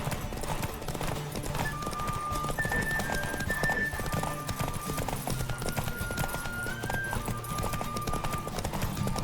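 In The Witcher 3, a racehorse's galloping hooves drum quickly and evenly from start to finish, loud and near, with a few sustained tones above them.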